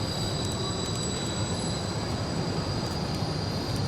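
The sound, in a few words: train with railway wagons passing in Basel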